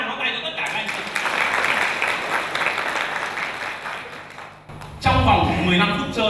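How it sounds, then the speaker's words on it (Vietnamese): Seminar audience at a camp event breaking into sustained clapping, a long steady round that fades, then a brief dip and a louder renewed burst of applause near the end. "Và một tràng pháo tay cho tất cả các anh chị."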